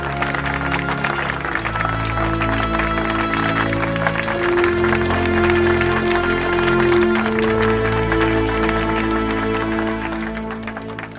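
An audience at a public talk applauds with sustained clapping that holds steady, carried under loud background music, and thins out slightly at the end.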